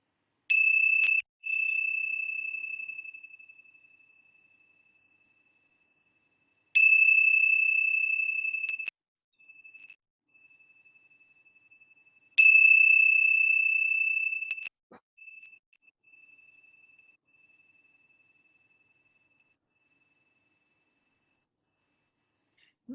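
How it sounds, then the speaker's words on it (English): Meditation bells are struck three times, each a clear, bright ding that rings out and fades slowly over several seconds in an otherwise quiet room. "I'm going to ring the bells"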